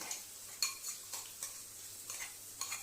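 Garlic chutney tempered in a hot pan, a quiet sizzle under a spoon scraping and stirring in irregular strokes, about half a dozen soft scrapes close up, with a faint low hum beneath.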